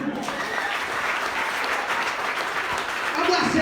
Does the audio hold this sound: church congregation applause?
yes